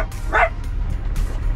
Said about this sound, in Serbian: Rossi tamo laje